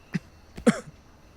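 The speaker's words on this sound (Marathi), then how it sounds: "तू का खोकतेस?" A man coughs and clears his throat in two short, rough bursts close by, then falls quiet.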